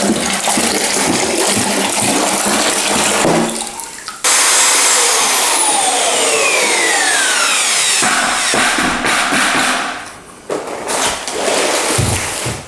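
An electric mixer churning floor screed in a bucket while the subfloor is prepared for Marmoleum, a loud, close, continuous whirring and sloshing roar that pauses briefly and then starts again, with no talk.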